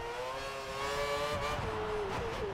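A Formula 1 race car in the video game F1 2013 driving fast, its high engine whine holding steady and then dipping and rising through gear changes, loud and close with no talk.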